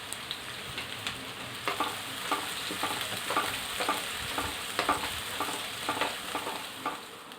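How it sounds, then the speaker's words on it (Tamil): Chopped onions sauté in hot oil, a continuous soft sizzle broken by regular scraping stirs, close and fairly quiet with no talking. "பெரிய வெங்காயம் நல்லா கட் பண்ணி வச்சுருக்கு. ஸோ ஆட் பண்ணிவிட்டு நல்லா வந்து வதக்கி விட்ருங்க."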